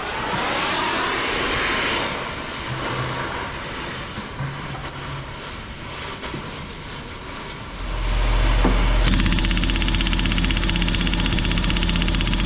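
A torch flame heats a part on a JCB Teleskid 3TS-8T skid steer, a loud steady roaring rush that swells and deepens partway through, close and continuous with no talking.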